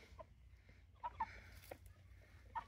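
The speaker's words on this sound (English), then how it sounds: "That's a hen." Soft, scattered hen clucks on a farm, a few short calls spaced apart over a low background rumble, fairly faint and not too close.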